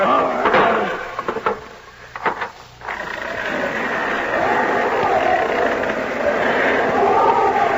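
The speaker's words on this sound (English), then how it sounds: "Hold him while I open this door." A door opens with wooden creaks and knocks inside an old radio drama about the Count of Monte Cristo, followed by a steady muffled rumble of room noise, close and fairly loud.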